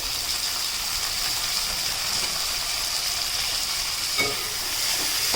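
Finely chopped tomato going into onions frying in a pan: a loud, continuous hiss of sizzling oil, with a couple of faint clinks near the end.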